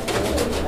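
A red Bombay pigeon pair gives a single short, loud, close coo.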